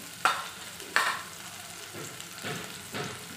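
Turmeric, garam masala and red chili powder are stirred into a frying potato filling for bakery-style aloo puff patties, with scraping spoon strokes at regular intervals over a soft, steady sizzle.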